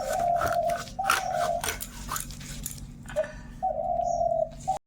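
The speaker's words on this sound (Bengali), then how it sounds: "ঘুঘু এরকম ডাকছে" Dove cooing close by in a home setting, several drawn-out coos repeating in a steady rhythm with short pauses between them, heard alone with no talk.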